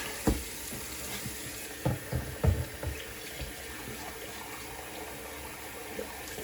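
Running water rinses out a bowl at a sink, a steady hiss of flow broken by a few clunks and knocks of the bowl, close by with no talking.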